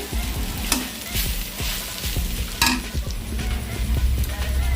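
Ivy gourd fry with chilli powder sizzles steadily in hot oil while a spoon scrapes and stirs the pan in repeated strokes, with sharp metallic clinks standing out above the constant frying hiss.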